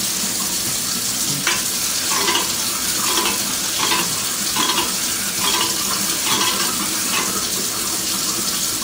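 Jell-O being stirred in a pot on a stovetop burner, a steady scraping swish with repeated rhythmic strokes over a continuous watery hiss, close and fairly loud, with no talking.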